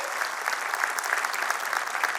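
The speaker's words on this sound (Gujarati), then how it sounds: "આજ રોજ આપણે સૌ રાજકોટવાસીઓ જોરદાર તાળીઓના ગણગણથી મુકેશભાઈ પટેલને અભિનંદન કરીએ" A hall audience at a chamber of commerce budget event in Rajkot applauds Mukeshbhai Patel with sustained, even clapping, loud and continuous throughout.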